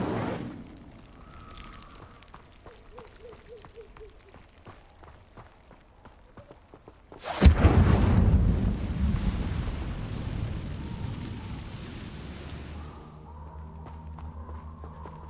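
A fiery Incendio spell from Hogwarts Legacy erupts suddenly as a loud roaring whoosh partway through, after quiet ambience with faint ticks, then burns down into a sustained crackling rumble that slowly fades.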